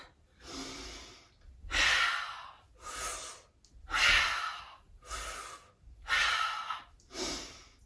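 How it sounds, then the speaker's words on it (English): Quick, forceful bursts of open-mouth breathing in a yoga exercise, seven loud pumping breaths in a steady rhythm, close and alone. "you can even breathe through the mouth here, which we never do in yoga. You can make it a little bit faster, like a pumping motion for your breath"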